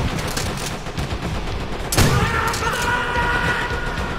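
Rapid gunfire from a World War II battle in Call of Duty: World at War, a dense, continuous rattle of shots with a sharp louder burst midway, sustained to the end.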